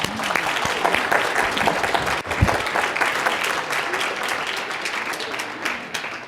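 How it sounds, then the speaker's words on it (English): A congregation at a church service applauds in gratitude, a sustained dense patter of many hands clapping that fades slightly toward the end, with a single sharp thump partway through. "let's send an applaud of gratitude to James and the crew"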